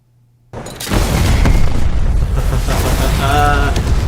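A bomb bursts on a road in the movie Rambo: Last Blood, erupting suddenly from near silence into a loud, sustained roar that rumbles on without letting up.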